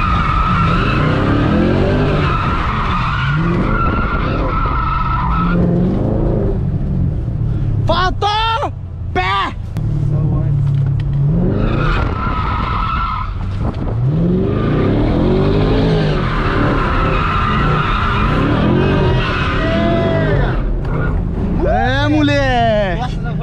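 A Chevrolet Camaro V8 drifts on a track, its tires squealing in long rising and falling wails over the loud, steady engine roar, while people talk throughout.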